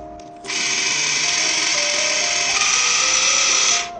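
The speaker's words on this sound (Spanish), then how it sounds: "voy a utilizar solamente el Waterpik para limpiar mis dientes" A Waterpik water flosser cleans teeth with a steady, high buzzing whine that switches on abruptly, holds evenly for over three seconds, then cuts off, heard close up.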